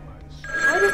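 A red phone rings inside an SCP video game, a short electronic ring tone that swells in loudness within about a second.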